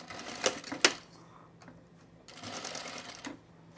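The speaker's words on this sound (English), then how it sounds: "I'm going to sew right next to these gathers" A sewing machine stitches beside fabric gathers on a boho tunic in short, quiet bursts, with a couple of sharper mechanical clicks near the start.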